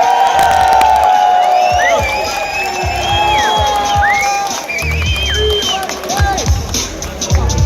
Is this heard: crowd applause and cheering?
yes